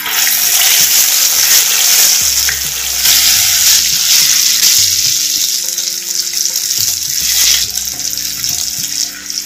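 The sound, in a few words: marinated beef frying in hot oil in clay pan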